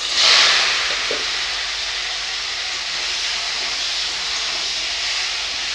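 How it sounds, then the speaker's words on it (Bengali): Small cut fish heads frying in hot oil in a wok, giving a loud burst of sizzle at the start that settles into a steady, continuous hiss close by, with no talking. "এই মাছের মুড়োগুলো আমি ছোট ছোট করে কেটে নিয়েছি। এবারে আমি ভেজে নেব।"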